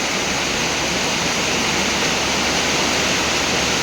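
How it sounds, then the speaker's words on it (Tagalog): Heavy rain pouring down during a stormy spell, a dense, steady roar of broadband hiss with no letup, close and loud throughout. "perting kusuga sa ulan"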